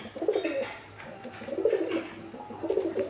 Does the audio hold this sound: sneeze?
no